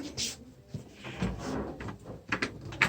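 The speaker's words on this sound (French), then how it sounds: "Un petit peu, je vais ouvrir la porte." A door being opened in a nursing school practice lab, with a handle click and creak followed by several short knocks and bumps, fairly close, with no speech.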